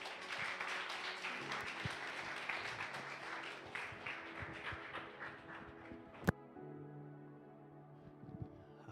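A church congregation claps in praise during a service, many hands clapping together for several seconds before thinning out, leaving sparse claps and a sustained low tone.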